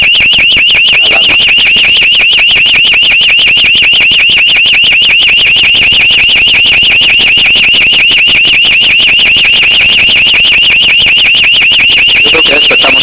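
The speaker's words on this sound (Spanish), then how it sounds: "Ya fueron a apagar la alarma." A piercing emergency door alarm rings nonstop inside a building, a loud, steady electronic tone with a fast warbling pulse that never lets up, with no voices over it.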